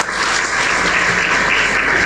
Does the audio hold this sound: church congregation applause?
yes